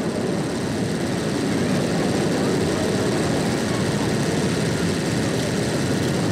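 An Aermacchi MB-339 jet of the Frecce Tricolori aerobatic team, rehearsing at the Jesolo air show, gives off a loud, constant roar that fills the whole stretch without letting up.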